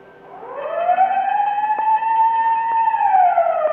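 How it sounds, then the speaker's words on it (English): A siren wails, rising into a sustained tone with faint periodic bell-like clicks, then dipping at the end; clear and moderately loud. "Whenever you hear the siren and bell"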